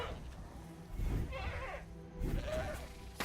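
A goat in the Pax Dei game bleats twice, each a wavering, nasal cry of about a second, mid-distance over a steady outdoor ambience, with no talking during the calls.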